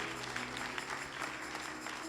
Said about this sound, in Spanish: ¿Cuánto le damos un aplauso a Dios?